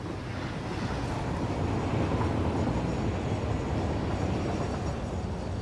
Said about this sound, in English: See if the train can get through here.